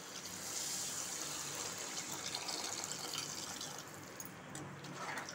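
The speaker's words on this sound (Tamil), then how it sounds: "இப்போ இதுக்கு தேவையான அளவுக்கு தண்ணி சேர்த்துக்குங்க." Water pours steadily into a pot of vegetable curry being cooked, a soft continuous gush heard alone for several seconds before easing slightly near the end.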